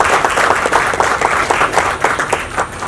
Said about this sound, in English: Please, a round of applause for my team.